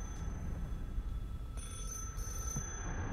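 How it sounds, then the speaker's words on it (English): In the dark horror video game UMBRA, a telephone rings with a thin, faint, steady high-pitched electronic tone over a low dull rumble, the ringing continuing through the whole stretch without speech. "The phone. Where's the phone?"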